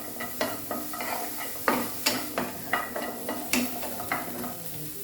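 About thirty garlic cloves and thirty small shallots fry in a pan over a high flame, with a steady sizzle under regular scraping stirs of a spoon against the pan, close and clear.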